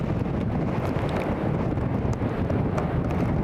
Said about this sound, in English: Wind is currently gusting 50 knots, folks.